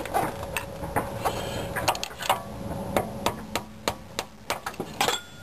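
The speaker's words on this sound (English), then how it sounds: "I just put a screwdriver in here and just lightly tapped on it" Light hammer taps on a screwdriver wedged against the rusted rear axle splines of a Mercedes 420 SEL, a series of sharp metallic clicks spaced unevenly, several close together, heard close up with no talking.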